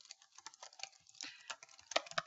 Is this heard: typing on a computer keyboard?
yes